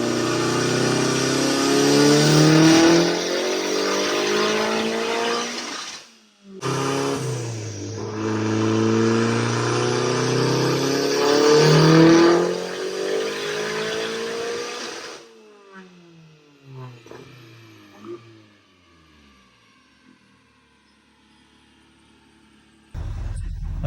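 A tuned drift car's engine revs hard at wide open throttle in two long loud pulls, each climbing steadily in pitch, then drops to quieter idle blips and crackles before one final burst at the end.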